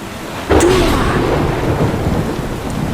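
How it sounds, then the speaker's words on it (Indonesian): A loud thunderstorm with rain: a sudden close thunder crack that rolls into a rumble over steady heavy rainfall, with no voices. "Tak lama kemudian, hujan badai pun datang."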